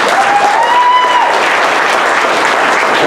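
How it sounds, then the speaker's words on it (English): A loud, close, continuous round of applause from an audience at a ministry evening event, thick clapping that fills the whole stretch without a break. "Let's give them all a round of applause."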